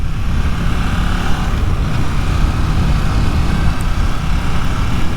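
A 2022 KTM 890 Duke GP motorcycle engine pulls hard under acceleration, a loud continuous roar mixed with heavy wind rush, heard from on board.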